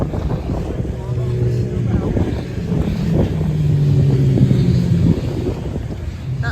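Race cars on a track day roll into the pit lane together, a dense low engine drone with shifting tones that swells as they approach, under wind noise on the microphone.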